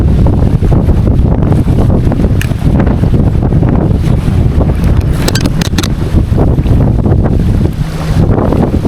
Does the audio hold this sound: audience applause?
no